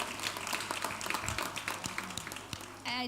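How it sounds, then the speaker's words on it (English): Graduates clapping at a university graduation ceremony, a steady patter of many hands through the hall, moderately loud, with a voice starting to speak near the end. "I'd like you to all give yourselves a round of applause, the graduates, for having achieved this"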